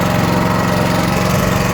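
Small engine on a ride-on lawn fertilizer spreader runs steadily at working speed, a loud, close, constant buzzing drone with no talking.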